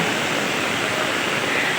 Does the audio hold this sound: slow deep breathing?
no